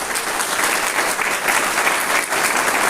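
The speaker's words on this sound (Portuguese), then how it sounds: "Não é uma salva de palmas para Jesus," A church congregation applauds during a sermon, dense, loud and continuous, a wash of many hands clapping together with no voices.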